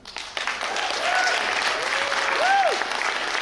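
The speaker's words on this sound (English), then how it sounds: "Please give them and also another round of applause." An audience at an all-candidates forum in Coquitlam applauds in a steady, moderately loud wash of clapping, with a few whistle-like tones rising and falling over it.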